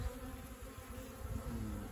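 Dense, steady buzzing of honeybees swarming around a hive frame during a beekeeping inspection, a continuous close hum with no talking.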